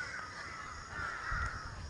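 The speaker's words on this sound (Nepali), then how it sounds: "चराचुरुङ्गीहरू चिरबिर" Crows cawing in a hillside forest near Pharping, Nepal, their harsh calls fairly close and steady over soft woodland ambience, with no talking.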